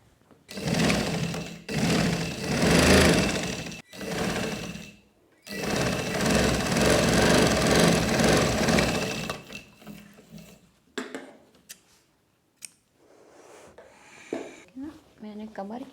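Sewing machine running in long bursts while stitching the waist seam of an umbrella frock, loud rapid mechanical chatter in several runs separated by short pauses, with quieter handling noises toward the end.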